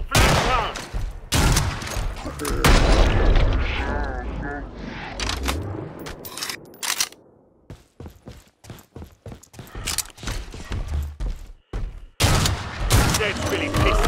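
Gunfire in the video game Killing Floor 2, including heavy M99 anti-material rifle shots: loud, sharp bursts in irregular clusters, some dense stretches of rapid fire, amid game noise with voices talking over it.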